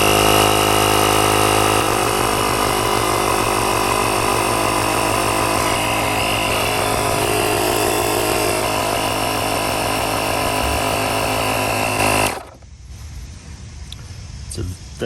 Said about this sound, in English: It's definitely a very powerful air compressor.